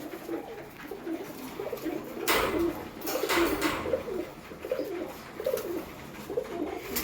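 Pigeons at a loft feeding on grain give repeated low burbling coos, close and moderately loud, with a few brief rustling bursts of wings or movement.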